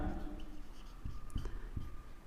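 A pen or marker writes out a maths formula on a board or paper, with short scratching strokes and a few sharp taps, close and quiet.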